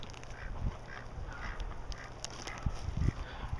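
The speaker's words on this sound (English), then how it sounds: "And the ducks are gonna follow me." Ducks quack and honk faintly while trailing a gardener through a winter fruit-tree garden, with soft scattered calls and occasional low thumps under a steady outdoor hiss.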